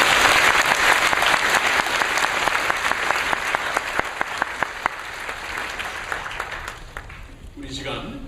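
A church congregation gives thanks with loud, dense applause, many hands clapping together at close range, the sound thinning out and fading toward the end, with some voices mixed in.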